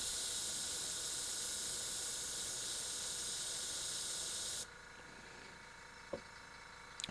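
An airbrush spraying paint onto a 3D-printed figure with an uneven, sputtering flow, a steady close hiss that cuts off abruptly midway, leaving quiet with a faint click.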